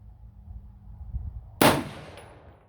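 A single sharp gunshot from a 16-inch AR-10 rifle chambered in 6.5 Creedmoor, cracking loudly and close after low background rumble, then decaying with a brief ringing tail.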